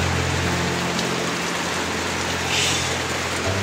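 Heavy rain pouring down steadily while people shelter at a house, a loud, dense hiss of falling water with a low engine-like hum underneath, continuous throughout.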